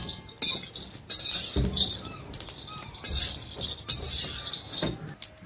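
Peanuts stirred and roasted in a pan with chillies and garlic, giving scattered metallic scrapes and clinks of a spoon against the pan at close range, with no talking.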